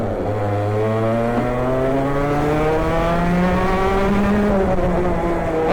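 A restored barn-find racing kart drives on a partly wet race track, its small engine droning loud and close with steadily rising and falling pitch through the corners.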